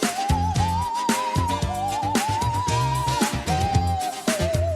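A sampled music loop, tempo-matched and pitched up three semitones, with its high end cut by a Cymatics Origin filter, plays a wavering lead melody over pulsing low chords, continuous and full for several seconds.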